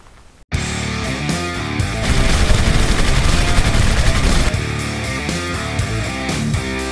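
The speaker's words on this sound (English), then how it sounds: "we had this 500 JRH BFR blow up its barrel" Magnum Research BFR revolver chambered in 500 JRH fires and its barrel blows up, giving one sudden loud blast followed by several seconds of sustained, dense roaring noise with no talk.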